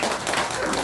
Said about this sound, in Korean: 이럴 때 박수 한번 주세요.